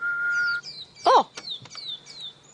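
A pearl-spotted owl answers during a sunset safari drive with a quick run of short, bright whistled chirps after a single steady human-whistled tone, fairly close and clear against a quiet background.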